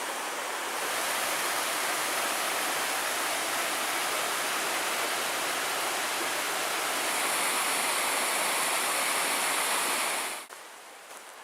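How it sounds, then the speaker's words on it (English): A woodland stream in the Porcupine Mountains rushes steadily over many small tiered waterfalls, a loud, continuous broadband roar close by that cuts off abruptly near the end. "Walking along the stream. You get so many little tiers of mini waterfalls like this."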